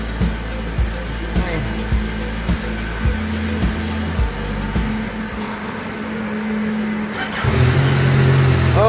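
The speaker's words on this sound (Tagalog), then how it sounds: "Yan yung tunog ng MT-09 engine" A Yamaha Niken motorcycle's MT-09 engine idles close by with a stock setup before an Akrapovic full exhaust is fitted, pulsing in regular low throbs that then settle into a smoother, louder running drone near the end.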